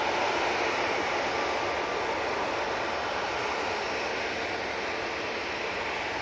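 An easyJet airliner departs Manchester Airport bound for Antalya, giving off a continuous, fairly loud jet-engine rush that stays even from start to finish, with no talking.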